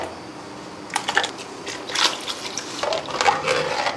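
Water splashes into street-style momo chutney in a kitchen, a few short watery bursts and gurgles at close range with no talking.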